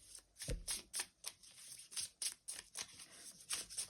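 A deck of tarot cards being cut and shuffled by hand, giving a quiet series of rapid, papery riffles and soft slaps at a fairly regular rhythm, close up with no talking.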